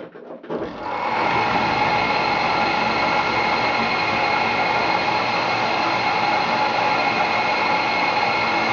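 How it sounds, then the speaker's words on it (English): A wound rotor three-phase motor switches on and spins up within a second, then runs steadily with a loud, even mechanical whir and hum that holds constant. "it's a standard three-phase motor. So I'm going to switch it on now,"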